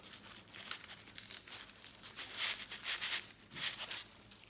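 Tape crackles and crinkles in short, close bursts as a taped flower structure is pressed onto foliage for an Easter wreath, with no voices and the rustling swelling louder toward the end.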